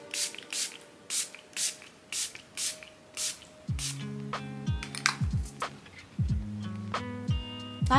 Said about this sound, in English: My favorite setting spray is this Milani Make It Last Original Setting Spray. Yeah, spray it all over.